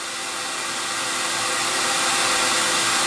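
A CamVac dust extraction system venting air outdoors runs with a steady, loud whooshing roar of rushing air, constant and close, with no voices.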